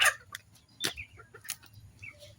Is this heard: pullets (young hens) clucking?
yes